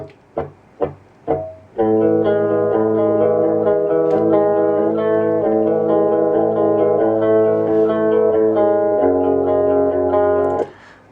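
A sustained electric guitar chord rings out after a few short plucked notes, pitch-shifted up six semitones so it sounds bright and higher, steady and loud before cutting off.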